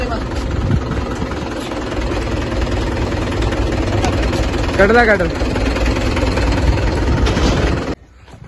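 A tractor engine idles with a steady, loud rumble close by, running throughout while someone speaks briefly over it, then cuts off near the end.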